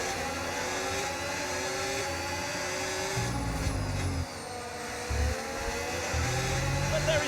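Formula 1 cars from the F1 25 video game race at the Chinese Grand Prix, engine whine and passing roars under steady commentary, moderately quiet with brief surges as cars go by.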